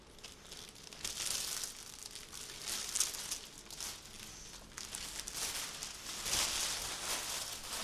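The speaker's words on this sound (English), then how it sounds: "if we remove this cap sheet, all we'll be left with is the stuff we've cut" A green cap sheet is peeled away from pre-cut STEK DynoShield paint protection film, giving a steady close crinkling and tearing rustle with a few sharper crackles throughout.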